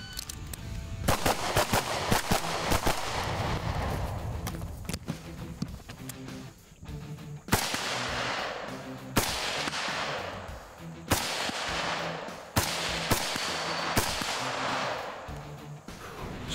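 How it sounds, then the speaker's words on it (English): Rifle shots fired at a shooting range crack out one after another, loud and close, with sharp reports and short echoing tails between them. "I was able to shoot the rifle shots quicker."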